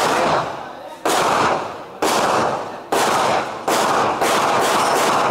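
Taurus 9mm pistol fired live at a 5-meter shooting range drill, five sharp, loud reports spaced about a second apart, each with a decaying echo tail.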